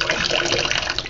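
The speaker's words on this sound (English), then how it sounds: "Now I could just turn my water on" Water rushes steadily from a kitchen faucet into a sink in a tiny house, a close, continuous hissing splash with no talking.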